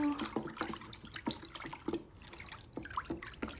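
Water sloshes and splashes in a bucket as PVA is stirred in, irregular close liquid swishes and drips repeating every half second or so, fairly faint, with no talking.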